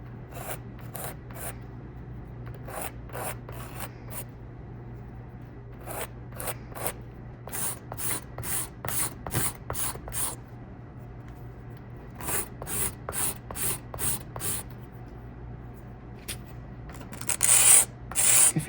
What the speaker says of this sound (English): If you're wondering what kind of file I'm using a regular nail file